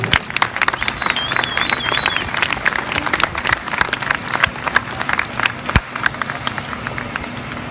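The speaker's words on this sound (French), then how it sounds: "alors on va applaudir les collègues, merci pour votre travail" An audience applauds firefighter colleagues at a Swiss fire brigade event in Nyon, sustained crowd clapping with scattered sharper claps, a whistle-like tone early on and a brief thump midway.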